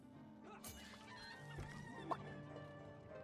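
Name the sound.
chicken clucking in video game Divinity Original Sin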